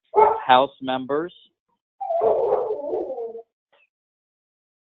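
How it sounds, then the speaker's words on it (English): A dog barks a few times in the background of an indoor room, short sharp yelps in two bursts between stretches of a man's speech; a voice talks throughout. "Excuse my dog barking in the background."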